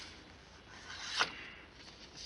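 A Stampin' trimmer slices through paper or card for a Christmas stamping project, one brief quiet swish of the blade near the middle, with faint rustle and no talk.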